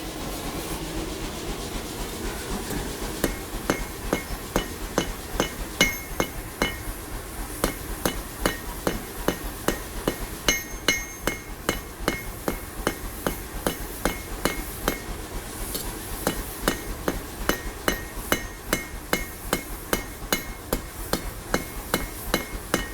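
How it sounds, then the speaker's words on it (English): Stainless steel being hand hammered to widen its end during forging, a long series of sharp metallic strikes in a steady, fast rhythm, close and clear with no talk. "Now I want to widen this end out a little bit more, so I'm going to hammer that by hand."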